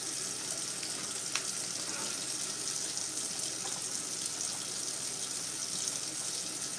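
Tap water runs steadily into a kitchen sink as mushrooms are washed, a constant hiss with a few faint knocks, heard alone.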